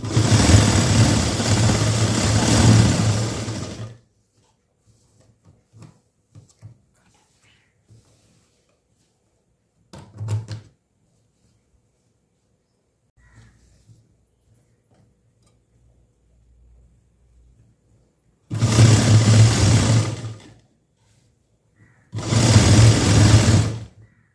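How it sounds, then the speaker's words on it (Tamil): A sewing machine stitches along the edge of a blouse lining in three separate bursts of fast rhythmic mechanical whirring, close and loud, with near silence and faint handling noises between the runs. "ஓரமாக தைச்சிட்டு வரணும்."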